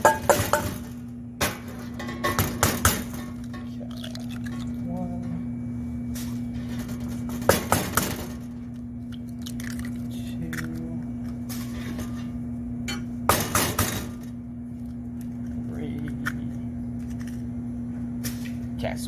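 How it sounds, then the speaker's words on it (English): Four eggs are cracked one after another against a mixing bowl for French toast, giving sharp clustered taps and clinks spaced several seconds apart over a low steady hum. "first thing we're going to do is we're going to crack our 4 eggs"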